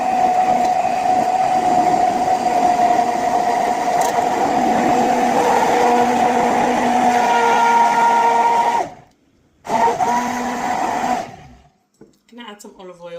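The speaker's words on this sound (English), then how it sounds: "I think I'll just blend for a bit and then add the olive oil" A kitchen blender whirs steadily and loudly while blending mayonnaise ingredients of egg, salt, pepper and olive oil, then stops abruptly with a short gap, briefly restarts and cuts off again, followed by a few faint clicks.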